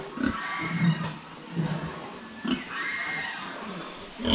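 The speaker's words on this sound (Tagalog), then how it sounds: "Yung mga baboy natin, oh." Pigs grunting in a pen, a handful of short low grunts and snorts spread irregularly over a few seconds, fairly close, with no talk.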